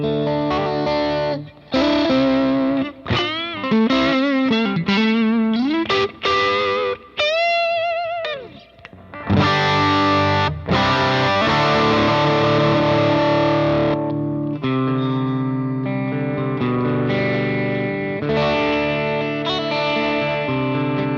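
An electric guitar plays through a three-mode effects pedal, loud and distorted, with bursts of bent lead notes, brief pauses, then sustained, heavily driven chords ringing out with no talking.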